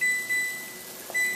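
Electronic timer beeps in a kitchen while vacuum-sealed brisket reheats, a few thin, steady tones, faint and close, with a short pause between them.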